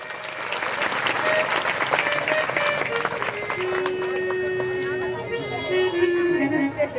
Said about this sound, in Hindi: ऐसे माताओं के लिए एक बार जोरदार ताली